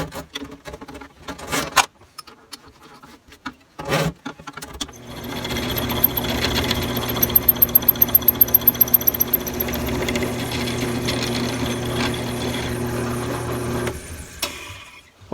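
Drill press boring a 3/8 inch hole in a handle part for a 1976 Case 450 crawler's controls, preceded by a few clunks, then a steady close motor drone with a fast rattling chatter partway through, no talking.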